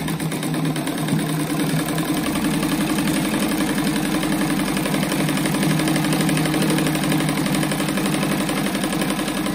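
A sewing machine stitches the pieces of a patchwork rug with a steady, continuous mechanical whir that holds even and close for the whole stretch, with no talk over it.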